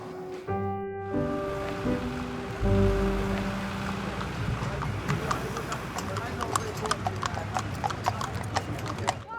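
Horses clip-clop over hard ground at Appleby Horse Fair in Cumbria, a busy irregular patter of many hooves close by, mixed with crowd noise, voices and a tonal horn or engine drone at the start.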